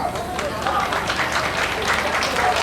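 A crowd applauds at a fair opening by a schutterij in Heythuysen, steady mixed clapping throughout, fairly close and even in level, with voices murmuring underneath.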